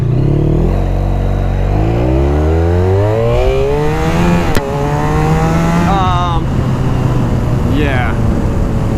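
A 170 HP V4 sports touring motorcycle accelerates hard from a standstill to beyond 60 mph, its loud engine note climbing steadily in pitch through several upshifts, with brief dips between gears and continuous close, roaring intensity.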